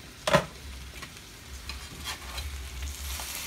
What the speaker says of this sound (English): I gotta run and flip my potatoes